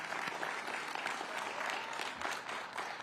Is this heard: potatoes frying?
no